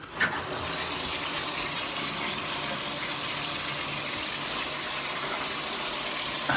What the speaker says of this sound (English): Moving into the bathroom here, we're going to turn on all the plumbing, make sure everything works.